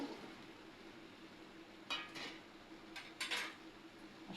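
Gulab jamun sweets being stirred in warm sugar syrup, a few quiet scrapes and light clinks of a spoon against the pot against a faint steady background, close and soft.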